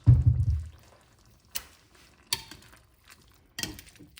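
A spoon stirring chicken and rice seasoned with black pepper in a pot, heard as a soft low scrape followed by three sharp, separate clinks against the pot's side, quiet and close, with no talking.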